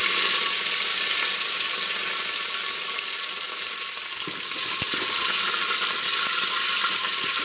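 Crushed garlic, with tamarind nearby, frying in hot oil in a home kitchen pan, a steady bright sizzle running throughout with a brief dip and a few soft stirring knocks near the middle.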